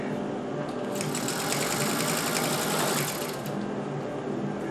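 A Singer 201K sewing machine running at full speed while stitching a cravat, a smooth, fast, steady mechanical whir held close and continuous throughout.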